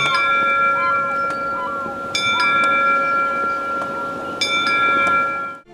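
Video game bells ring out on D flat in sustained, resonant tones, struck again a couple of times, over a low rumbling bed with faint chirping tones.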